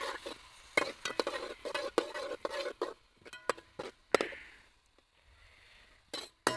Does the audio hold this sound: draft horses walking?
no